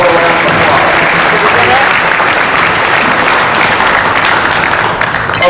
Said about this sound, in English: Let's give Roger and Pamela one more round of applause.